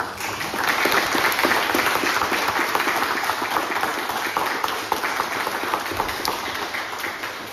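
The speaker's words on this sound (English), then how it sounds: "So if we could just give a round of applause" A crowd applauds students being presented for promotion at a ceremony, with dense, continuous clapping, loud and close, sustained evenly throughout.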